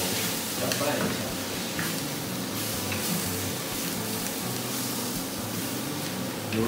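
Squid rings stir-fried in a pan with cornstarch and food colouring, giving a steady dense sizzle with stirring scrapes throughout, moderately loud and continuous.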